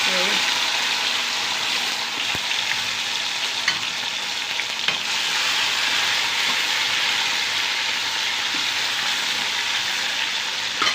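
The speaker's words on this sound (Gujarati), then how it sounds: "અને સરસ મજાનો ટમેટાનો વઘાર થઈ રહ્યો" Tomato tempering crackles in a pan with mustard seeds, cumin and fenugreek powder, giving a loud, even, close sizzle that runs the whole way through, with a few light taps and a brief voice early on.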